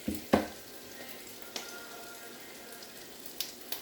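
Keto clam fritters frying in a pan over fairly high heat, a soft steady sizzle with a sharp pop near the start and a few fainter crackles scattered through.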